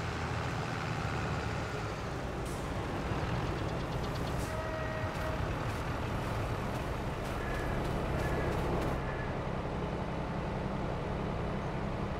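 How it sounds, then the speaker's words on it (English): A combine harvester engine idles in Farming Simulator 22, a steady low rumbling drone that continues evenly throughout, with faint higher tones and light clicks passing over it and no talk. "We'll leave the engine running and stop the worker in the combine."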